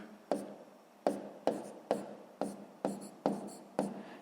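A pen scratching across paper during a sixth-grade math lesson: eight crisp, evenly paced strokes, each starting sharply and trailing off, close and clear with no talking.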